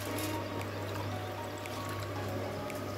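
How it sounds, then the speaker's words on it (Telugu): A little water is poured into a fish curry mixture. It makes a soft, continuous trickle at close range, fairly quiet, with no voices over it. "కొద్దిగా నీళ్ళు పోసుకున్నాం."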